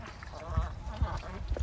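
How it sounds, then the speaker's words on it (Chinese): Ducks quack in a rain-flooded backyard garden after two days of heavy California storms, a few short nasal calls close by amid wet outdoor ambience. "鸭子也在水里面，可欢心了。"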